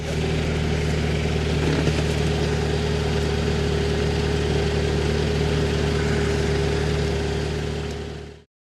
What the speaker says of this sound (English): This engine is actually a 4AG 20 valve.